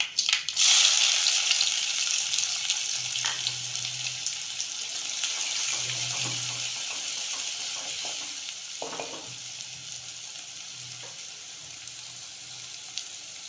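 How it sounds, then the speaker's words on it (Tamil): Chopped small onions, green chillies and curry leaves fry in a pan for a Tamil fish curry, giving a steady close sizzle with occasional stirring scrapes throughout. "மூணு பச்சை மிளகா கருவேப்பிலை வெங்காயம் நல்லா வதங்கி வரணும்"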